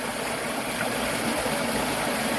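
Water pours over a small falls into a deep hole on a farm, a continuous broadband rushing that holds steady and fairly loud throughout, with no voices.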